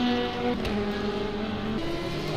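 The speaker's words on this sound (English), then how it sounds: "I heard someone's engine go very, very low then" Race car engines in a sim racing endurance event at Spa, a continuous droning whine that steps down in pitch partway through as gears shift, with no voices over it.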